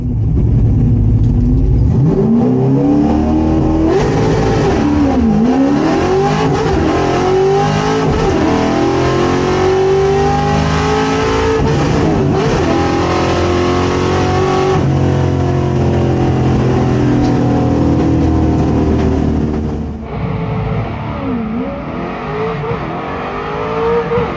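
A drag race car makes a pass at a test-and-tune session, its engine revving hard through loud, rising gear pulls with brief shifts, then backing off near the end, close and dominant throughout.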